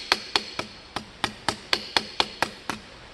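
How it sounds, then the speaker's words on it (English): A hammer strikes an aluminum sheet being shaped into armor, about a dozen sharp, ringing metallic blows at a steady, even pace, close and loud with no talking. "You do not want to hammer it completely flat in one go."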